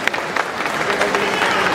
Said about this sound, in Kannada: ಜೋರ್ ಚಪ್ಪಾಳೆ ಹೊಡಿಲೇಬೇಕು ನಾವು ರಾಜು ಅವರು